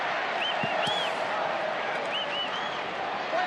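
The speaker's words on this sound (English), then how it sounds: "Crowd in full voice right now." Broad, steady crowd roar at an AFL football match between Fremantle Dockers and Hawthorn, a loud continuous wash of cheering voices filling the stadium, with a commentator's voice audible over it.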